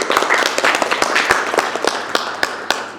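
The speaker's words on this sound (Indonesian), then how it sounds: "Kasih tepuk tangan dulu untuk kelompok 3 ya" Classroom of students clapping for a student group after a biology lesson, brisk uneven hand claps close by, a few sharp individual slaps standing out over a short burst of applause.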